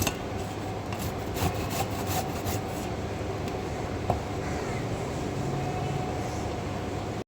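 Coconut is grated into fine flakes in a kitchen with continuous close rasping and scraping, quicker strokes at the start, then a steady rough rubbing at low level with no talking.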